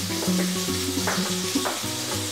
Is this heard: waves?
no